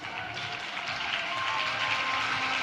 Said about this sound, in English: I want all of you to clap in appreciation